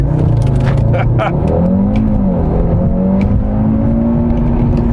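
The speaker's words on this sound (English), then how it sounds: "let's see how fast this bad boy accelerates" A 400 hp Audi TT RS accelerating hard from 0 to 60 mph, its engine note rising through gears from inside the cabin under a continuous loud roar, with a person speaking over it.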